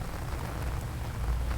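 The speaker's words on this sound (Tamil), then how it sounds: "இடியுடன் கூடிய பலத்த மழை பெய்து வருகிறது" Heavy rain pours in a steady, dense hiss with a low rumbling undertone, continuous and fairly loud with no voices.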